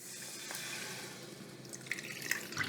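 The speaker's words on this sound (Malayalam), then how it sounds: "ഇതിലേക്ക് ഞാൻ ഒരു 3 കപ്പ് നമ്മുടെ കോക്കനട്ട് വാട്ടർ തന്നെ ഒഴിച്ച് കൊടുക്കാം കേട്ടോ." Tender coconut water is poured into a heated pan for pudding, giving a soft, steady, faint liquid wash with a few light splashes and drips near the end.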